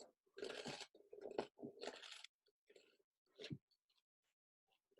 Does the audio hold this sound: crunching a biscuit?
yes